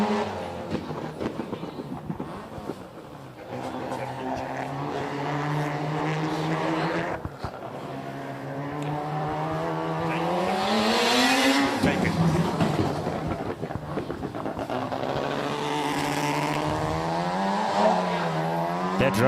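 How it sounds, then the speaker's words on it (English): A rotary-engined stock car laps a racing circuit, its buzzing engine note rising and falling in pitch through gear changes and passes, loud and continuous, with a sharper high whine near the end. "That rotary just sounds absolutely superb"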